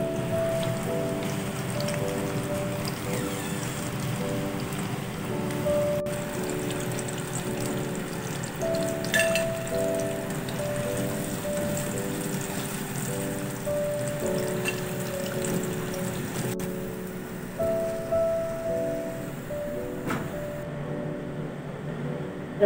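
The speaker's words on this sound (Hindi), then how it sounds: "अब हम इसको तलना शुरू करते हैं।" Chicken hot shots deep frying in hot oil: a continuous, even sizzle and crackle with a fizzing wash like rain, steady and close throughout, with faint background tones.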